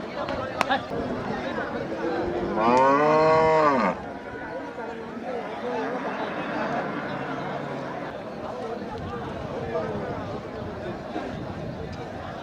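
A Jersey cross dairy cow at a livestock market gives one clear, loud moo of a few seconds, rising and falling, over steady crowd chatter and general market noise.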